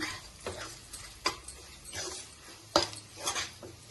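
Ground cumin and spices frying in a pan for a masala egg curry, with a faint sizzle beneath repeated clinks and scrapes of a spoon stirring against the metal, quiet and close.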